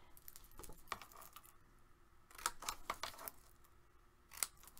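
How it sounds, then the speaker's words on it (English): Scissors cut paper at an angle while a trifold folio is crafted: a few crisp, close snips in short bursts with quiet pauses between them. "I'm going to cut that at an angle."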